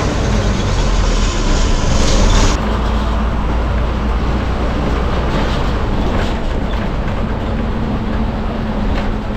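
Inside a bus heading to Kelshi, Dapoli, a loud continuous road rumble and engine drone fills the cabin, shifting slightly in tone early on and then holding steady.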